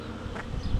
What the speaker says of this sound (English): they're all just buzzing around the air as well.